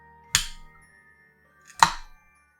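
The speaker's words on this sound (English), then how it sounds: "the drink sounds like this when you open it." A drink is opened in two distinct bursts: a short sharp crack with a hiss, a pause of over a second, then a second louder snap and fizz, up close in a quiet room.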